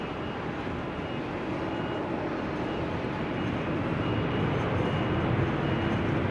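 Two heavy jet airliners, a Qatar and a Turkish, approach Amsterdam Schiphol in showery weather, a broad steady roar of jet engines that builds slightly louder over the few seconds.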